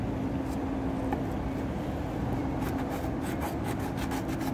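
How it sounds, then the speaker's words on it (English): Rubbing the label off a metal item pulled up by magnet fishing, a continuous close scraping and rasping over steady low background noise, with faint rhythmic strokes toward the end. "I'm rubbing the label off."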